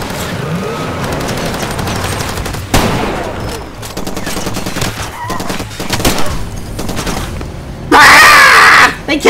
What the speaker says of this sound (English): Whoa, I'm under fire!